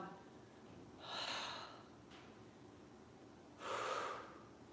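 Two slow, audible breaths during kundalini yoga, each a soft airy rush through the nose lasting about half a second, separated by quiet, faint and close in a calm room.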